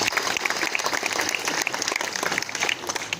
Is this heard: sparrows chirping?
no